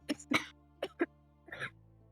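A few short, dry coughs in quick bursts, then a throaty clearing, close and fairly quiet with no talking.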